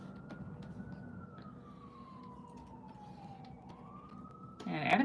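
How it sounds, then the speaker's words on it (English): Emergency vehicle siren on a New York street, a single wailing tone sliding slowly down then up, somewhat distant and moderately loud, with a burst of louder street noise at the end. "Sorry about the sirens, guys. New York's very loud."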